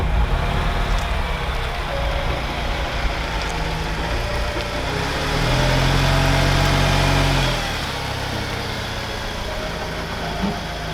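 A car engine drives along steadily on the way to a campsite in Sonfjället, a continuous mid-range hum that swells louder for a couple of seconds midway and then settles back, with no talking.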